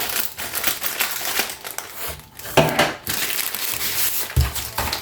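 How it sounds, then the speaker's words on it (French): Someone opens a package of pizza dough with crackly crinkling and crushing of the wrapping, close and irregular, in bursts with short pauses. "je vais déjà commencer par ouvrir ma pâte à pizza"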